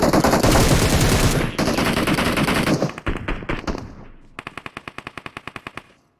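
Gunfire in the battle-royale game PUBG Mobile comes from a tower: dense, loud automatic bursts, then scattered shots, then a final rapid run of distinct evenly spaced rounds, with no voices over it.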